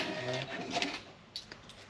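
A small receipt printer at a shop counter gives a brief, close, buzzing mechanical whir that fades into a few faint clicks, with no talking.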